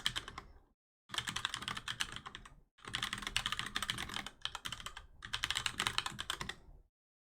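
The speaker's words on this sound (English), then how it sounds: "I know you're going to hear some typing" Fast typing on a computer keyboard in bursts of rapid clicking, broken by short silent pauses between runs, close and clear with no voices.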